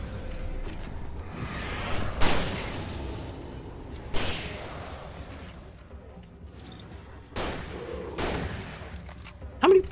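Gunfire in Alan Wake Remastered: four loud, sharp shots spaced about two seconds apart, each trailing off into a rough decay over a low ambient bed, with a faint voice at times.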